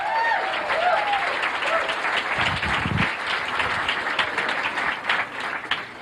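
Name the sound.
comedy club audience applause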